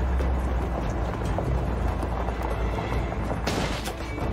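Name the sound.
sniper gunfire in the video game Call of Duty Modern Warfare 2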